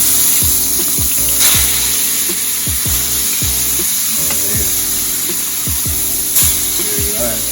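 Food hisses in a hot pan after being flipped, a loud, steady broadband sizzle running the whole time over a regular pulse of low thumps.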